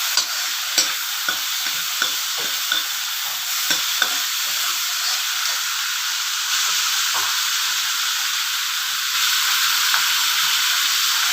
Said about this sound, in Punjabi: ਆਪਾਂ ਪਿਆਜ਼ ਪਾ ਦਿੱਤੇ ਆ